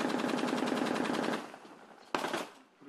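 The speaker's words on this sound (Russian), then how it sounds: "начинается стрельба, и уже не в воздух" Machine-gun fire at a front line at night: rapid, dense bursts of shots for over a second, then quieter distant fire and a single sharp loud shot, with echoing gunfire trailing off.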